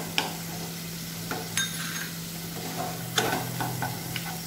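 Garlic and ginger paste, dried red chilies and turmeric sizzle in a pan for a Boal fish curry, a steady frying hiss broken by scattered scrapes and clinks of a stirring spoon against the pan.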